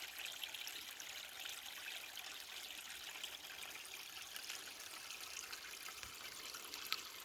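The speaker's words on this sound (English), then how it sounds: "We'll take a look at our stream too." Cool, fast-flowing mountain stream rushing steadily over mossy ground, a constant broadband wash of water with no voices, heard close and even throughout.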